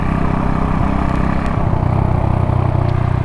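A modified Hero Honda Splendor motorcycle rides along a main road, its engine thrumming loud and close in a steady, continuous mid-pitched drone.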